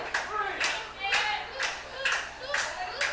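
Crowd clapping at a wrestling match, rhythmic bursts of applause about every half second, fairly close and steady, pacing out a chant-like beat with no talk over it.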